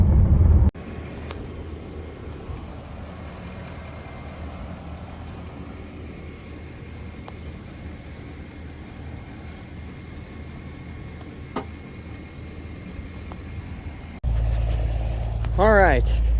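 John Deere 4430 tractor engine idling on a farm, a steady low diesel rumble that runs throughout before a louder burst near the end with a voice speaking over it.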